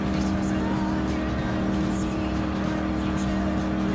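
A Lexus SC430 race car runs at speed in the Gran Turismo Sport racing game during a custom race, with a steady, loud engine drone and tire noise throughout. A player talks over the sound.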